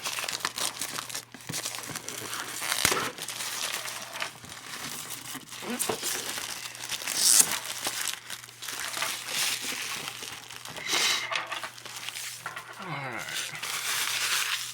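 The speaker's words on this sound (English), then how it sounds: "Let's get this plastic off." Thin plastic shrink wrap is crinkled and ripped off the box of a 1/25 scale AMT 1977 Ford Pinto model kit. A long run of close rustling and tearing, with brief rips mixed in.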